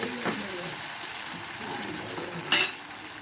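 Spices and tomato sauce sizzle steadily in a hot pan for an amudi fish dish, with a stirring scrape and a brief louder hiss near the end, alone without speech.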